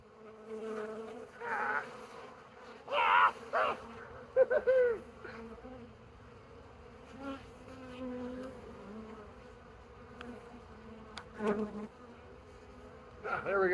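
Honeybees buzzing during a beehive inspection, a close, fluctuating hum with individual bees swelling loud as they pass near, over a quiet background.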